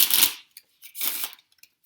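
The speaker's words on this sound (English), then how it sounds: "I love the way this deck shuffles." A deck of tarot cards is shuffled close by in two quick riffling bursts separated by a short pause, with a few faint taps of the cards afterward.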